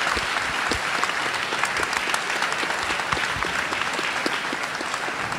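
A theatre audience applauds volunteers with steady, dense clapping that runs evenly throughout, loud and sustained with no voices on top.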